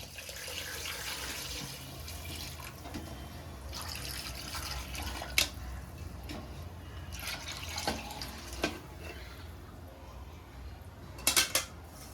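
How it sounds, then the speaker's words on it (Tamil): Coconut milk and water are poured into a pot of vegetable biryani, making a faint, steady liquid pour with a few sharp metallic clinks from the pot. "இப்போ நம்ம தேங்காய் பாலும் தண்ணியாக எடுத்து வச்சிருந்தோம் இல்லையா, அதை உள்ள சேர்த்துக்கலாம்."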